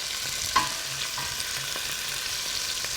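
Potatoes and peppers sauteing in an uncrowded pan, a soft steady sizzle with light scraping of a utensil and one brief clink near the start.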